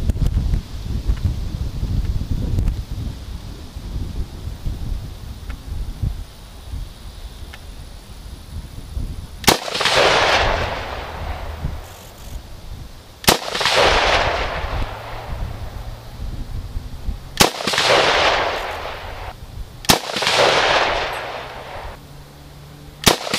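Four sharp rifle shots from a sporterized military surplus rifle fired at a target outdoors, each a loud crack followed by a long rolling echo, spaced several seconds apart over steady wind noise.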